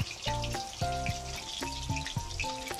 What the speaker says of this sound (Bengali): এখন আমি বাকি প্রনসগুলোকেও সেমভাবে ময়দায় কোটিং করে ব্যাটারে চুবিয়ে এখন তেলে ছেড়ে দিচ্ছি।